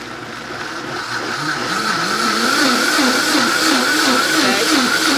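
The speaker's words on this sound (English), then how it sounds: "We're gonna start low on your vitamin or whatever blender that you're using." A blender whirs as it purées sea moss gel, starting low and rising to a loud, steady whine with a wobbling pitch as the speed is increased, heard close up.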